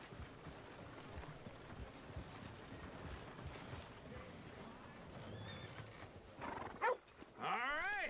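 Horses at a stable in a Western video game, with clip-clopping hooves and neighs over a steady outdoor ambience, ending in a couple of sharp, loud whinnies.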